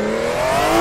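A 1000hp racecar engine revving hard at a car rally, a loud, close, steady rising whine with strong harmonics climbing in pitch over a brief moment.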